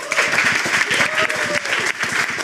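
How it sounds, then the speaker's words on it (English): An audience at a Lucca Comics & Games talk on Magic: The Gathering gives a speaker a warm round of applause, loud continuous clapping from a close crowd, with a faint voice murmuring underneath. "Let's give him a round of applause."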